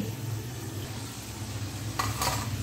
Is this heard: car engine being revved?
no